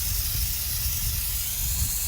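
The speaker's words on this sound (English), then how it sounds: "So I'll spray it directly on it" Aerosol rust inhibitor lubricant sprayed directly onto metal slides gives a steady, close, loud hiss that runs unbroken for about two seconds with no voices.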